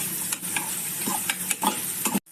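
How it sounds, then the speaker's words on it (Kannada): Dry spices, dal, coriander seeds, cumin, fenugreek and dry red chilies, are stirred and roasted in a pan for a basale leaf sambar, giving quiet, short scraping strokes with a soft sizzle beneath, and no one speaking. "ಹುಳಿಗೆ ಬೇಕಾದ ಮಸಾಲೆ ಹುರ್ಕೊಳ್ಳೋಣ"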